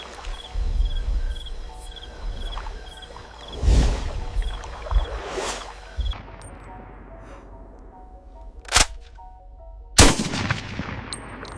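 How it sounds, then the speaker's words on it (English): A sharp, loud rifle crack rings out in a swamp, followed by a couple more abrupt bangs amid a steady background of buzzing insects and low rumble. "The rifle cracks, shattering the silence of the swamp."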